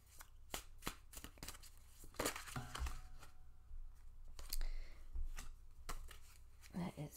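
A deck of tarot cards is shuffled close by, with repeated crisp riffling and flicking bursts spread through the clip, alongside handling noises.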